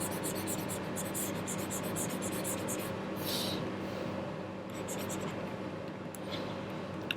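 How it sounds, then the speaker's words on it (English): A pen scratches and rubs steadily across a writing surface during a math exercise, close and continuous, with a constant background hum. "let me write"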